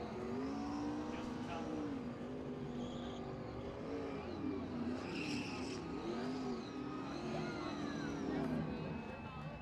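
A modified race car at Owosso Speedway does a smoking burnout in turn three after winning the Hot Shoe 100, its engine revving and wavering with tire squeal, under continuous loud talk over the public address.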